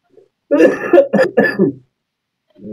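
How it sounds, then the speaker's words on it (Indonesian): A person coughs several times in a quick, throaty burst, close and loud, followed by a short silence. "Maaf nih sambil batuk."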